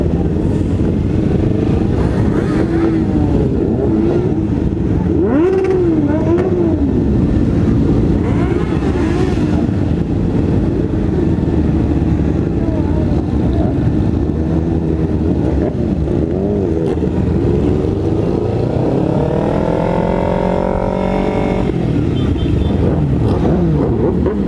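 Several motorcycles on a group ride that also includes sports cars, engines droning loud and continuous with rising revs toward the end, and no talk over it.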